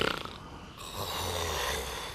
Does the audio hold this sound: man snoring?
yes